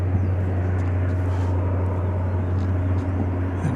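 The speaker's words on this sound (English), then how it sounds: "And now I think we have this Martin Air flight headed off." A Martin Air plane taking off at DFW Airport, its engines a loud, steady roar with a strong low hum holding at close range throughout, no voices over it.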